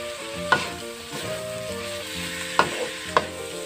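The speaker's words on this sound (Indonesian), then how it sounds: "Kita aduk lagi hingga bumbunya tercampur merata." Seasoning and leeks for a Surabaya vegetable lumpia filling fry in a pan with a soft steady sizzle, punctuated by three sharp spatula clanks against the pan over background music.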